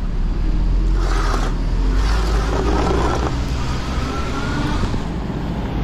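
Cars pass on a road beside an e-bike, a loud, continuous roar of traffic with wind rumble, vehicles sweeping by close at hand.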